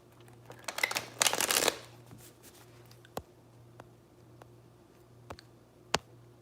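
A deck of tarot cards is riffle-shuffled close by in a brief, crisp burst, followed by scattered light taps and clicks as the cards are handled over a faint steady hum.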